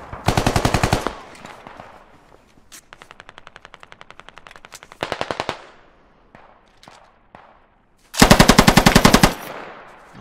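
Automatic machine-gun fire in the tactical shooter Squad, loud close bursts at the start and end with a quieter, steadier stream of rounds in between, plus scattered single shots.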